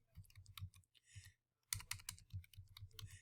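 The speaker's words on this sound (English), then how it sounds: "I'm typing in my first name space last name" Quiet, close typing on a computer keyboard comes in two quick runs of light clicks with a short pause between them.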